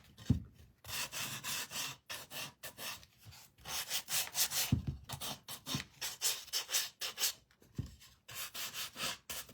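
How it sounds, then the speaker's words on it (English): A gator sander scrubs over small wood pieces in bursts of rough, close scratching strokes, uneven in rhythm with short gaps between passes. "So I'm going to get my gator sander out here. And we're going to give these a little bit of a distressing."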